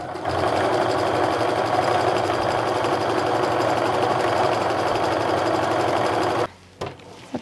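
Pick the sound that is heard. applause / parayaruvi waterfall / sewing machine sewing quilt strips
sewing machine sewing quilt strips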